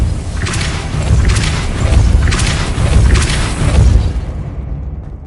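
The Depulso spell in the video game Hogwarts Legacy on PS5 lands as loud, heavy booming impacts, about four broad bursts roughly a second apart over a steady rumble.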